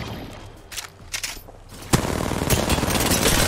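Automatic gunfire from an Apex Legends match, weapon fire in a ranked scrim: a sharp shot near two seconds followed by a dense, continuous rattle of rapid shots, fairly loud and steady through the rest of the moment, no talking.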